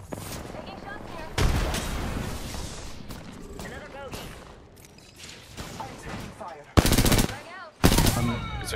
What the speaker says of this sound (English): I'm getting shot from the other team though